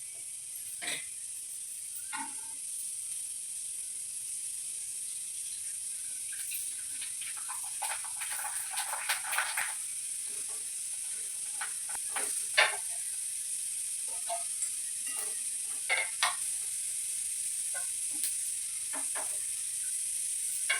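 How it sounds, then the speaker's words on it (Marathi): Kurdai, crisp wheat or poha fryums, fry in hot oil in a home kitchen, giving a steady, quiet hiss with scattered sharp crackles and bubbling bursts and no talking. "मी इथं कुरडगी तळून घेणार आहे"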